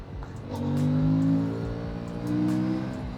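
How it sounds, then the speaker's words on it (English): Aprilia Tuono 457 motorcycle engine revving up and easing off twice in a short burst, a strong harmonic drone rising and falling, close and alone with no talk. "What a lovely, lovely engine!"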